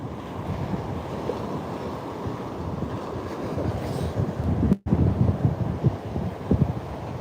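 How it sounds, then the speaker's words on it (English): Gusty wind buffets the microphone outdoors during a fossil-hunting walk, a steady low roar that swells and eases, with a brief dropout midway and no talking. "Sort of wind keeps coming and going"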